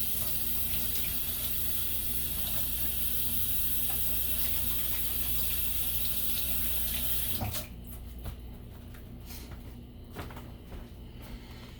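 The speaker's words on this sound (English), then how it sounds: "Wash my hands off." Water runs steadily from a kitchen tap while hands are washed after seasoning chicken, a continuous broadband rush that cuts off partway, leaving faint clatter and room noise.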